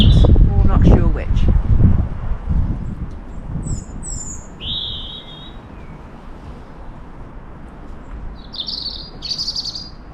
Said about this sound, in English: we got beautiful bird song